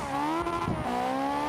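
Drift car in the racing game SlideStyle, a sustained high-revving engine drone with a brief tire squeal in the middle, steady and close.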